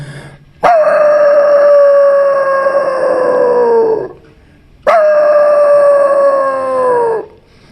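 A voice imitates a dog howling: two long, sustained mournful howls that slowly fall in pitch, loud and close, with a brief gap between them.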